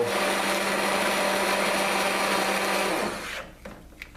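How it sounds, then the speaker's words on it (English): An immersion blender whirs loudly and steadily through celery soup, a dense buzzing drone that cuts off near the end, followed by a few faint clinks. "I'm going to blend some more"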